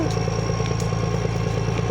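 A farm tractor engine runs steadily and close, a loud throbbing low rumble with faint rattling clatter, continuous through the short stretch with no voices.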